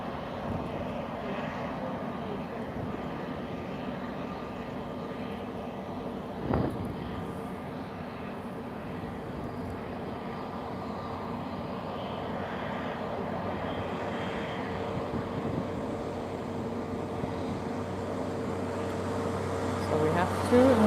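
Airliners lined up for takeoff at Lisbon Airport give off a steady, distant jet-engine roar that holds evenly and swells slightly toward the end, with faint background noise around it.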